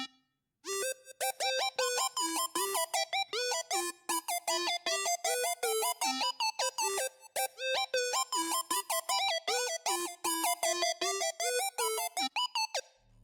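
A square wave synthesizer preset with portamento set to always plays a quick, bright melodic run, its notes sliding into one another in a busy rhythm, alone and close.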